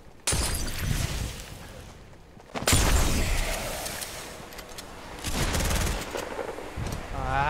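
Heavy bursts of video game gunfire mixed with explosive blasts, loud and sustained across several seconds with brief lulls between volleys.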